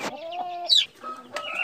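Chickens cluck while being fed, several short clucks and a sharp higher squawk in a quick irregular sequence close by, with no talk over them.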